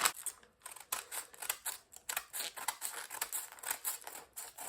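Scissors cut through camisole fabric in quick, soft repeated snips with a light rustle, close but quiet, and no one speaks.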